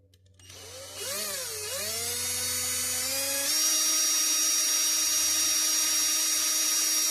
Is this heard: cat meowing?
no